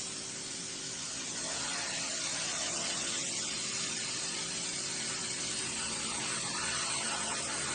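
A 130-watt laser cutting machine cuts a name into a sheet, giving a steady, even hiss like rushing air or spray that holds at a constant level throughout, with a faint low hum underneath and no voices.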